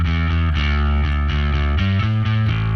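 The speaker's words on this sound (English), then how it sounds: "I'm going to turn up the overdrive." Bass guitar played through an amp with the overdrive turned up for a gritty punk tone, steady driven notes changing pitch in an even rhythm, loud and alone with no talk.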